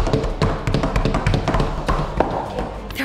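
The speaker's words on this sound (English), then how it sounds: "They're all knocking on that door." Several people knock on a door during a Roblox Piggy infection-mode game, with rapid, uneven raps and thuds tumbling over one another, close and loud.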